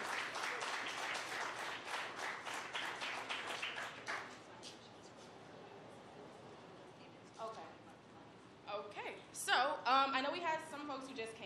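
Audience applause at a 2021 closing ceremony, a dense burst of clapping for a certificate of achievement that fades after about four seconds into a quieter room, with scattered voices and a few claps returning near the end.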